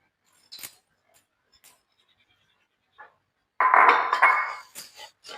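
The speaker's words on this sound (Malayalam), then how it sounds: "ഇതിനൊന്ന് വറുത്തെടുക്കാം." Parboiled rice roasting in a hot pan for a banana snack: a few faint, scattered clicks, then a loud, dry rattling sizzle for about a second as the grains hit the pan, trailing into soft taps.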